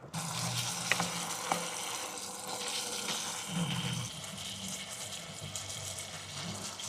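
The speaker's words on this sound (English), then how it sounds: "Oh, that's definitely boiling." Steady bubbling and hissing of liquid boiling hard in a pot on a camp stove, a continuous rolling sound with a couple of faint clicks.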